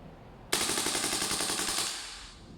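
A Redmantoys Edition BCM MCMR gel blaster toy gun rips off a rapid full-auto burst, a loud mechanical chatter of closely spaced shots lasting over a second before trailing off.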